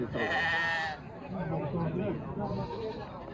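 Sheep and goats bleat loudly near the start at a livestock market in Uch-Korgon, their wavering cries giving way to a noisy crowd of people talking over one another.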